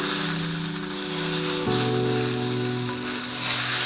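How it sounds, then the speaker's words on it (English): A thick filet mignon sears in a hot pan, standing on its edge to brown the sides, giving a steady close sizzle and crackle with no talking. "And now we're gonna go ahead and sear the sides."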